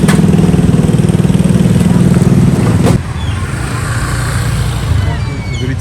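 Motorbikes crowd a street by a market in Buon Ma Thuot, Vietnam, with a loud engine putter close by that cuts off abruptly, leaving a busier hum of distant traffic and people talking.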